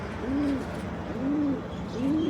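A pigeon cooing close by, three soft, low rolling coos repeated at an even pace.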